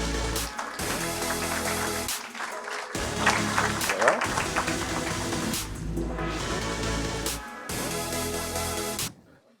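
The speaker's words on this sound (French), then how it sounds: "On peut les applaudir." An audience at a round-table event in Lyon claps for the panel guests, a moderate sustained patter broken by short gaps, fading out at the end.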